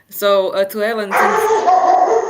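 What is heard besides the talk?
dog barking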